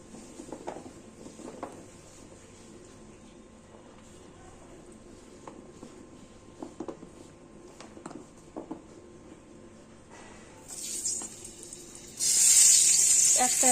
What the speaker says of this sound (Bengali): একটা করে আলু ছেড়ে দিচ্ছি সমস্ত আলু এক এক করে দিয়ে দিলাম এখন আলুগুলো লাল লাল করে ভেজে নেব